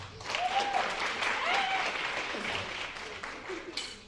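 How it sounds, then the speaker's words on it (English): Audience applause rises and rolls on for about four seconds, moderately distant and dense, with faint vocal whoops breaking through the clapping. "Give yourself a round of applause"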